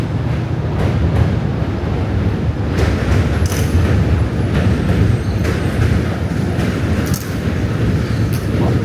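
A loud, continuous rumbling roar of a subway train rolling across the Manhattan Bridge in New York City, steady and heavy, with rattling and clanking throughout and no voices.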